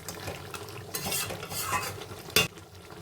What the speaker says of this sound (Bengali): আরেকটু কষাবো